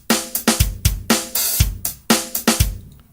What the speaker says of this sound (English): So now we have this drum beat here.